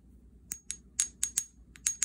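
A natural Lemurian quartz crystal, slightly chipped, tapped several times, giving about eight bright, ringing clinks in quick irregular succession, each with a short glassy sustain against near silence.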